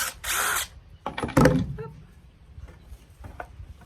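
Power drill driving screws out of the wooden boards of a raised garden bed, a couple of short whirring bursts followed by fainter clicks and handling noise, close and fairly loud.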